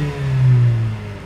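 A 2016 Mercedes CLA 45 AMG four-cylinder engine revs once, a short loud rising and falling blip that lasts about a second, with no voices over it.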